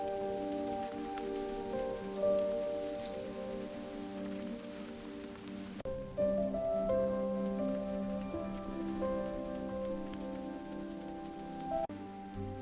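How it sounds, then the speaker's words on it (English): Rain falls steadily on surfaces in an animated fairytale village, a soft continuous patter that runs throughout under gentle tonal background music, with no voices. "Aye, the rain's soothing."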